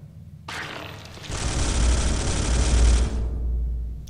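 A sustained burst of rapid automatic gunfire rattles for a couple of seconds in the Space Hulk remake (2013) video game, loud and dense with a booming low end, then cuts off.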